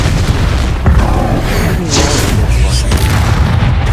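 A loud, booming Confringo fire-spell blast in the Hogwarts Legacy video game fills the moment, with dense, rumbling combat noise running continuously at full volume.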